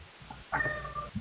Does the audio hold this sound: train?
no